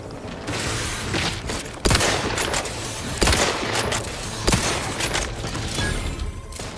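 Sustained gunfire in the video game The Outer Worlds 2, with dense bursts of automatic fire and several sharp, loud shot peaks cutting through a constant roar of battle.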